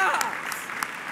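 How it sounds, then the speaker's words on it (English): Audience applause for graduating scholars at a Morehouse College Crown Forum Scholars Day program, a steady wash of clapping with a few sharper claps standing out over about a second. "Let's give these men another round of applause"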